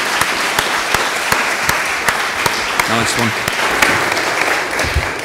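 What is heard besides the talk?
audience applause for panel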